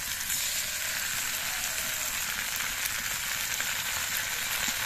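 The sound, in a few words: frying vegetables with turmeric and spice paste, stirring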